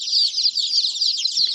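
Baby chicks cheep in a dense, continuous chorus of high, rapid peeps while being unpacked from a shipping box, close and steady with a faint handling bump near the end.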